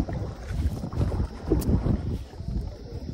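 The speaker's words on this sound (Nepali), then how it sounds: "क्या मस्त हावा चलिरहेको है हजुर" Wind blowing across a lake during a boat ride, a steady low rumbling roar with gusts buffeting close to the microphone, no voices.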